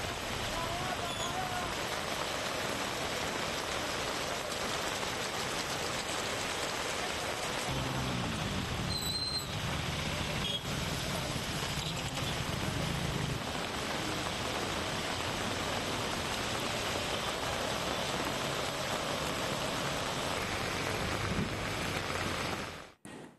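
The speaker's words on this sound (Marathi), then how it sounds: "नवी मुंबईतही जोरदार पावसाला सुरुवात झाली" A heavy downpour in Navi Mumbai hisses steadily and evenly throughout, a dense wash of rain that cuts off abruptly at the end.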